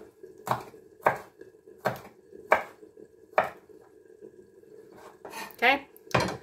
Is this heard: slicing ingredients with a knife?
yes